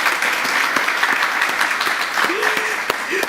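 Attendees at a housing authority board of commissioners meeting give a round of applause, a loud, steady patter of clapping with a few sharper claps standing out. Voices murmur underneath.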